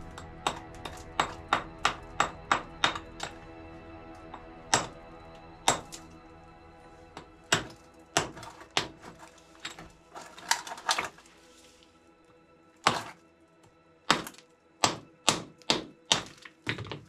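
Sharp metallic hammer strikes on fluorite-bearing rock in an abandoned mine, about two dozen, in quick bursts and separated pauses, close and loud with ringing tails.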